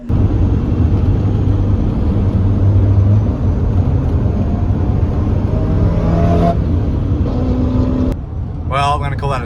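A 250hp SR20-powered Nissan S13 drifting on a full track gives a loud, sustained engine roar with shifting rev tones. It cuts off sharply near the end, and a brief voice follows.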